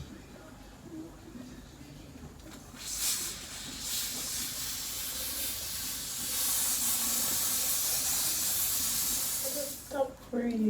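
Wonder Lace Bond adhesive spray hisses onto a wig in a long, steady burst that swells louder midway, with faint background noise and a short clatter at the end.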